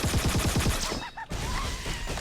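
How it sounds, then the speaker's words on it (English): Gunfire and an explosion in the Halo SPV3 video game, starting with a rapid string of loud shots that gives way to a low rumble and a whooshing blast, dense and busy throughout. "That's a late explosion."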